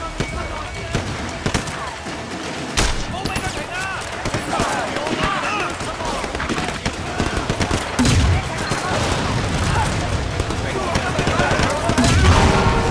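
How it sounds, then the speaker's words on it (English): Grenade launcher fire in the video game Sleeping Dogs, with sharp blasts and popping shots over a busy combat scene, and voices talking throughout. "Yes, a grenade launcher."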